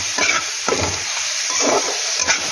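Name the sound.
spice paste being stir-fried in a pan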